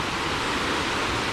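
A small waterfall pours over placed stones in a stream running through a plot of land, giving a continuous, dense, close-up roar that stays even throughout.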